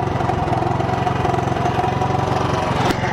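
A Honda CB125 motorcycle engine idles steadily up close, a loud, even mechanical putter with a regular pulsing beat and no talk over it.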